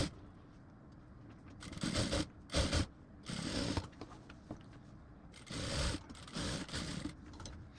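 A sewing machine stitches the side seam of a long garba blouse in several short bursts of rapid whirring, separated by quiet pauses, close and fairly loud with no talking.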